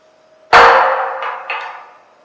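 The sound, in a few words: hammer striking to knock off a cut steel piece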